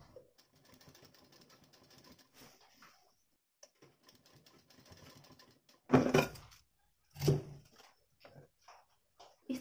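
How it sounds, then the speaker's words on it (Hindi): A sewing machine stitches the border of a blouse with a fast, quiet mechanical whir in short runs. Louder handling knocks and rustles of fabric follow the stitching. "इस तरह देखिए अच्छे से मिलाते हुए दूसरी साइड भी सिलाई लगा देंगे।"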